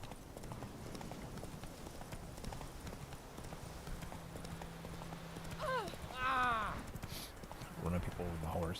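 Hoofbeats of a horse galloping across the ground in The Witcher 3: Wild Hunt, a steady rapid clip-clop running throughout, with a whinny-like cry and brief vocal sounds near the end over busy game background noise.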